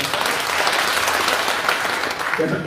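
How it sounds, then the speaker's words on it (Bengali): A crowd at a public gathering in Lalmonirhat applauds steadily, a dense continuous clapping that stays loud throughout, with a voice cutting in near the end. "এই জন্য আমরা একটু জোরে হাততালি দিই আবার"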